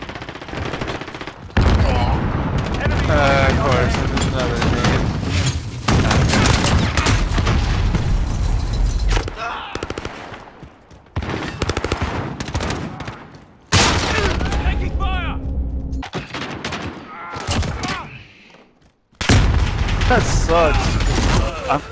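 Gunfire in Call of Duty: Modern Warfare on the Shipment map in hardcore Domination, loud automatic bursts and booms that stop and restart several times, with players talking over the shooting.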